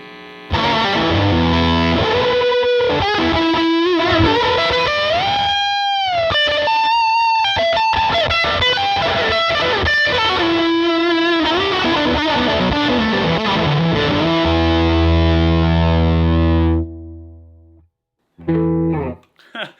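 Electric guitar through a reverb pedal, sustained chords and sliding bends ringing out loudly and washing together, then trailing off into a decaying tail near the end.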